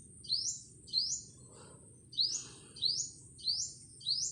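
A wild bird chirps repeatedly, six short bright calls in an uneven rhythm, each clear and fairly close, over a faint low background hum.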